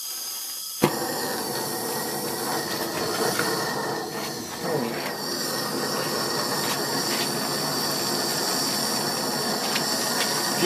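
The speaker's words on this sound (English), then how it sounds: "Torch going here." A torch lights with a sharp pop, then burns with a steady, continuous hiss and roar for several seconds, close by, while heating tubing to make a sight glass for home brewing.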